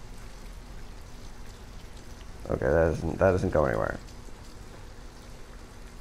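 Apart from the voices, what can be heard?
rain falling in the video game Detroit: Become Human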